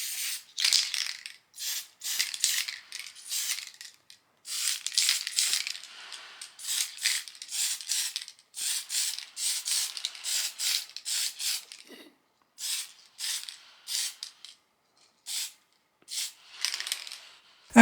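Short hissing bursts of a spray paint can coating small vintage toy figures, repeated bursts of uneven length separated by silent gaps, close and fairly loud with no speech.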